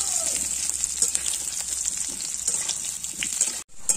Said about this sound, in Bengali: আলুগুলো একটু লাল লাল মতো ভাজা হবে